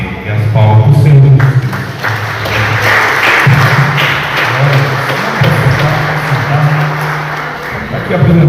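Congregation applause during an evangelical church service in Botucatu, Brazil, a broad wash of clapping that runs steadily throughout, with amplified music or voices sounding underneath.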